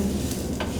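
Soft sizzling and a faint stirring scrape of flour-dredged seitan frying in an oiled pan, steady and close, with no voices.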